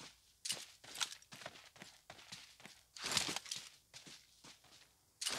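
Footsteps in the game PUBG Mobile thud at an uneven pace, some louder and nearer, others softer, with scraping movement between them and no speech.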